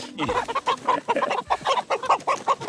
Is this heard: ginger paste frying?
no